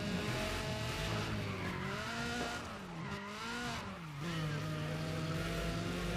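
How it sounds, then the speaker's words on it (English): A race car roars close behind in Need for Speed: ProStreet, its engine climbing and dropping through gear shifts with faint tire squeal, loud and continuous with no talk. "why does it sound like there's a car right behind me? Guys, it's because there's a car right behind me"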